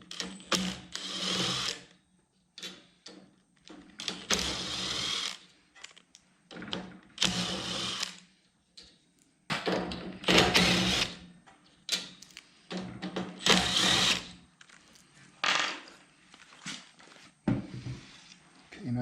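Screws come out of a torpedo heater's back plate under a power driver, heard as repeated short whirring bursts of one to two seconds, each separated by brief quiet pauses, close and fairly loud.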